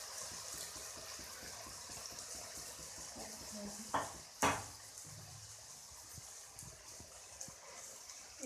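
Chowmein noodles stirred in a pan with an egg chicken chowmein, quiet scraping and soft swishing close up with a couple of sharper clanks partway through.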